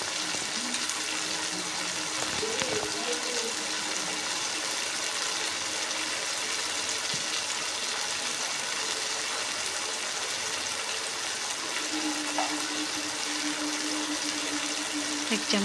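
Water poured into a pan while cooking egg tarka, a soft steady hiss and trickle running throughout at low level.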